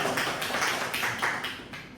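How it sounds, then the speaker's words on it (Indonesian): A classroom group gives a student a round of applause, a steady wash of many hands clapping at moderate distance, filling the whole stretch without voices on top. "tepuk tangan kepada Mas Anan"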